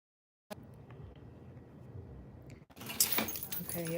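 Keys jingle and clink close by, a metallic rattle that grows busier toward the end, with soft rustling handling noise underneath.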